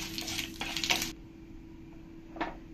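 Whole dried chillies and bay leaves dropped into hot mustard oil with panch phoron, a crisp sizzle and crackle for about a second, then a quiet hiss with one short pop near the end.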